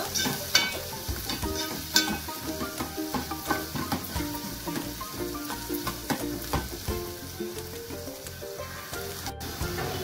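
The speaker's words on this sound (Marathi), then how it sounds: "कांदा चांगला परतून घ्यायचा आहे, गोल्डन ब्राऊन कलर येईपर्यंत।" Two large finely chopped onions sautéing in hot oil until golden brown, a soft, steady sizzle punctuated by rhythmic stirring strokes, fairly quiet and close.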